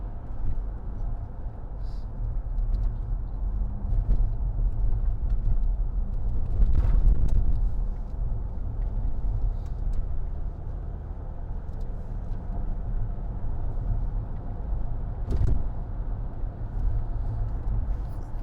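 A 2010 Range Rover Sport 3.0 TD V6 HSE diesel drives along a very bumpy road, a steady low cabin rumble with occasional thumps and jolts from the uneven surface and faint wind noise.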